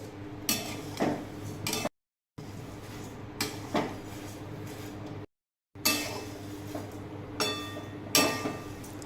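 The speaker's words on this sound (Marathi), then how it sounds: "हे पोहे आता कढईमध्ये छान भाजून घ्यायचे।" Sieved poha dry-roasting in a kadhai: a spatula scrapes and clinks against the metal pan in repeated close strokes, broken by two short gaps of silence.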